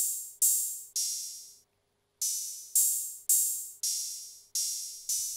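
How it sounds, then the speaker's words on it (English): A simple hi-hat pattern in a trap beat, sharp hissing cymbal hits with a long fading tail, repeating in a steady rhythm with one short gap partway through, played alone. "Last, I went with this very simple hi-hat."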